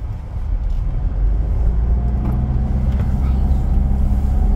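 A Dodge Dakar diesel pickup truck on the move gives a loud, steady low engine rumble and road drone, heard close from the cab while someone talks over it.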